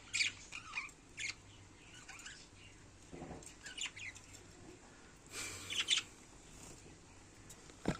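Pet birds in a colony of about seventeen chirp and tweet in short bursts, with light rustling and wing flutters in between, fairly faint and close, no voices.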